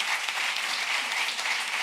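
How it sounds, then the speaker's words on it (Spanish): Steady applause from an audience, dense even clapping throughout with no pauses. "Les pido un nuevo fuerte aplauso para José, para The Fresh."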